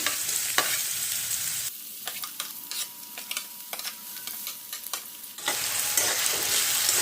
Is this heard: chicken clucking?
no